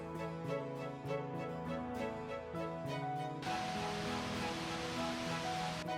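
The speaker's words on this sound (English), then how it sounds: "Oh wow, seeing the falls this close up was pretty spectacular" Rushing water at the upper falls of Gooseberry Falls, Minnesota, bursts in as a loud, steady roar about halfway through, over tonal music that plays the whole time.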